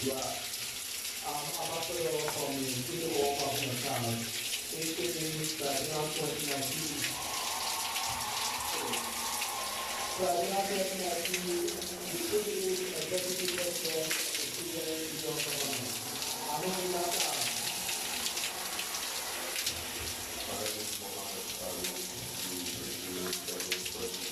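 Tap water runs steadily as hair is rinsed clean of shampoo, a continuous close splashing gush lasting throughout, with faint voice-like tones in the background.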